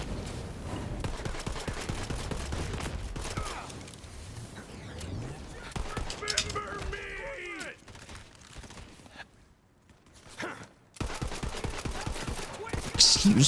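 Video game gunfire crackles in rapid bursts and volleys, loud and busy, then drops to a lull before firing picks up again near the end, with a voice talking at times.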